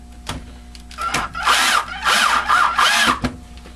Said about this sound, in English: It's always fun to watch somebody screwing screws